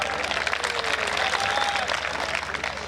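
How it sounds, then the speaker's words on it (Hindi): An audience at a Hindi poetry recital claps steadily and loudly, dense applause filling the whole stretch with no pause. "बजाओ तालियां।"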